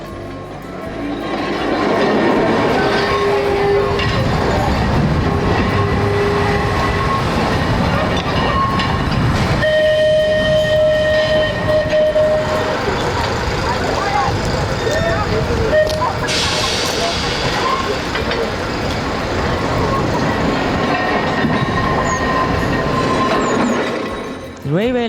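A Manx Electric Railway tram on 3-foot gauge track rumbles along the rails close by on the Isle of Man, wheels clattering and squealing steadily, with a horn-like tone sounding partway through.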